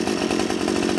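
A Full Boar 53cc two-stroke chainsaw with a 20-inch bar runs steadily at idle, close and loud, with a constant buzzing drone and no speech.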